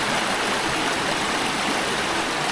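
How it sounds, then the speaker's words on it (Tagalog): Strong river current rushing loudly and close by, a dense, constant roar of flowing water with no breaks and no voices over it. "Lakas ng tubig, eh."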